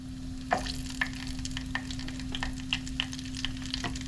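Potato egg balls frying two at a time in a small pan of oil at 325 degrees, a soft continuous bubbling with a low steady hum underneath and a few sharp clicks and taps.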